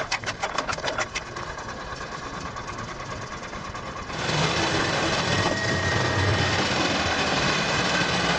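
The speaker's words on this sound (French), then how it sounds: "c'est un broyeur à bois plutôt cool" Wood chipper engine running, a steady mechanical drone with rapid pulsing at the start that grows louder and denser partway through and then holds.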